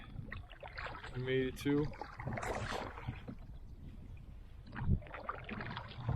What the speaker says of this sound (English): We're just paddling across this 4th pond right now